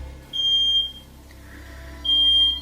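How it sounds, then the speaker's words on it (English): A smoke alarm emits two shrill, high-pitched beeps separated by a pause, over a low steady hum in a quiet room. "the smoke alarm going off."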